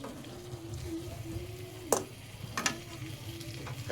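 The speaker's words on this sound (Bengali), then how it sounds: "এটাকে আমি এখন ভালো করে নেড়ে নেব, একটু কষে।" Fish curry with turmeric and spices stir-fried in a pan, a steady close sizzle broken by a few sharp spoon scrapes and clatters, no talking.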